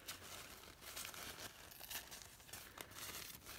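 A damp paper napkin tears slowly, with crinkling and uneven ripping sounds that go on close up and fairly quiet.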